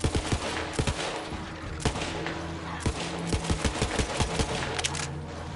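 Rapid SMG gunfire in the shooter game Borderlands 3, dense bursts of shots cracking close and loud over a continuous background of game sound.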